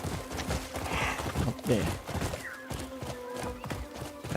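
Hooves clip-clop in a steady rhythm as a horse is ridden in Crimson Desert, with a brief snort partway through and a voice speaking over the steps.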